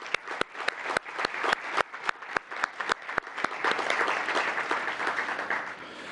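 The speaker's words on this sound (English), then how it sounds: "So I'd like to give them a round of applause as well." An audience applauds committee members at a civic event, starting with a few distinct claps that quickly swell into steady, dense applause from a room-sized crowd, fairly close.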